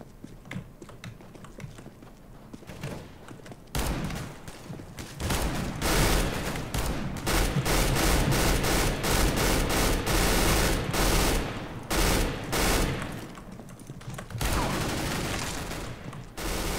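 Auto sniper rifle fire in Counter-Strike: Global Offensive, a run of loud rapid shots and clattering bursts that swells in the middle and eases toward the end.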